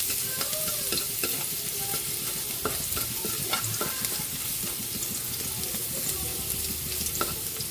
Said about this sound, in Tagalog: Mag-isa na tayo ng bawang para sa ating adobong pusit.